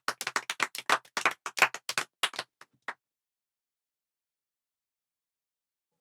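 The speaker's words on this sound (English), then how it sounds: "Everybody clap." Schoolchildren in a classroom clap together in a quick burst of sharp, bright hand claps for about three seconds, then stop abruptly into silence.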